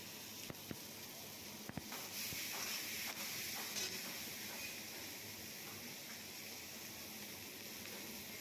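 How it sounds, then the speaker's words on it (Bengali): Slit green chillies sizzle in mustard oil, a faint, soft steady hiss with a few small pops and clinks early on, heard alone at low volume. "এবার চেরা কাঁচা লঙ্কাগুলোও দিয়ে দিলাম"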